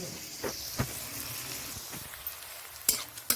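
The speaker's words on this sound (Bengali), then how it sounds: "দেখো পেঁয়াজটা মোটামুটি ভাজা হয়ে গেছে" Onions frying in a pan give a soft, steady sizzle, broken by a few sharp ticks and scrapes as they are stirred.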